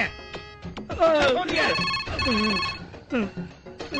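A telephone rings with a repeating electronic trill in a Telugu comedy film scene, ringing steadily while someone talks loudly over it.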